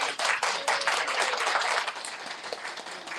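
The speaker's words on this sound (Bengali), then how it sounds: "একটু হাততালি দেওয়া হবে।" An audience applauds at an international conference on genocide of minority communities in Bangladesh, with dense, sustained clapping from many hands that fades slightly toward the end.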